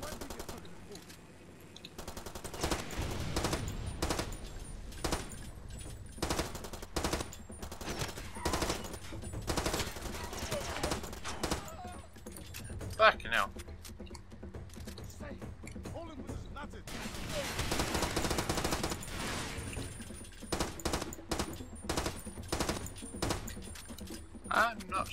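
Gunfire from the Far Cry 2 video game, a steady spread of shots and bursts running through the whole stretch at moderate level, with a louder dense barrage near the middle and a voice heard now and then in the mix.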